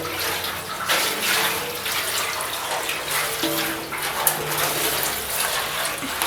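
Liquid sloshes around inside a Ford 2N tractor fuel tank, a steady, washing swirl that rises and falls in uneven surges for several seconds, with no voices.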